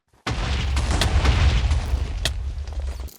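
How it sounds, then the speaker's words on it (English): A deep rumbling explosion booms in a flood survival video game, a sudden loud onset followed by sustained low roaring with scattered cracks and pops over a few seconds, no talk. "an explosion interrupted me."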